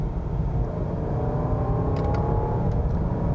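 A V8 Jeep Grand Cherokee L SUV accelerates under part throttle from inside the cabin, a steady rumbling engine note rising as the transmission downshifts, with no one talking.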